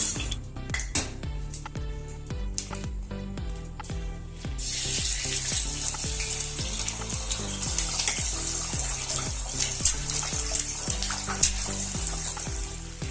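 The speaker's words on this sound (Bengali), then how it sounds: "তাহলে দেখুন কীভাবে আমি পোচগুলো ভেজে নেব।" Eggs frying one at a time in hot oil in a pan, poached style over low gas, give a steady loud sizzle. A rhythmic pulsing runs underneath, and no one speaks.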